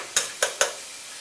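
Chopped onion toasting in a stainless steel pan gives three short, sharp bursts of sizzle and stirring, evenly spaced, then fades to a faint background hiss.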